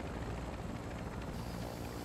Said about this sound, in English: Helicopter full of AI